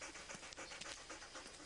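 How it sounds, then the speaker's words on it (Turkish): A hot dog pants rapidly to cool down, a steady run of quick, breathy rasps close by and fairly quiet, with no talking. "Köpekler sıcak olduğunda serinlemek için hızlı hızlı nefes alır."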